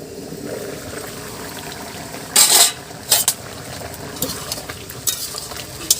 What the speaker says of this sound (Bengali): এখন একটা ঢাকনা দিয়ে আমি ঢেকে দেব।